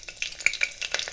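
Two dried red chillies and two slit green chillies dropped into hot oil, crackling and sizzling steadily with sharp bright pops throughout a brief moment, close and fairly loud, with no talk.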